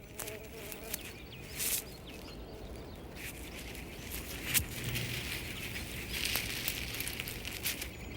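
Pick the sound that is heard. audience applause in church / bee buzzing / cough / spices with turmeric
bee buzzing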